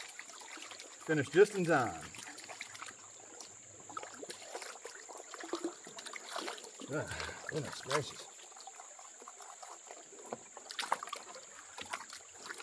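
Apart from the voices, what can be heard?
water sloshing in a gold pan while panning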